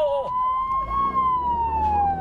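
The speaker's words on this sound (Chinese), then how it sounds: "前方缴获车一路逆向，警车鸣笛追车，追进了小巷子。" A police car siren wails loudly and close during a chase after a truck down narrow lanes, the tone sweeping up and down continuously.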